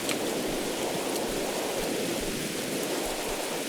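Rain in the video game HPS1, a steady, even hiss of rainfall with soft patter that holds constant throughout, no voices.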